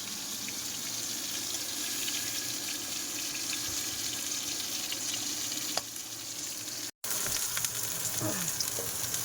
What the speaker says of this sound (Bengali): বাবার এই ছিটকাচ্ছে দেখো